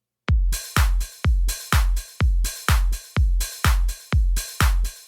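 A deep house boots-and-pants beat: steady kick drums alternate with bright, hissy open hi-hats in an even, driving pulse, loud and alone.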